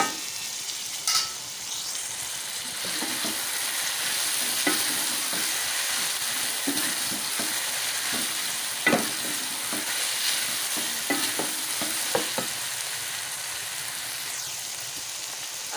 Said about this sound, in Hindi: अब मैं इसमें टमाटर और हरी मिर्च भी मिला लूँगी।